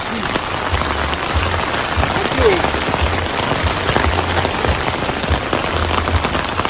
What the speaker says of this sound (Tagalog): lumalakas na naman ang ulan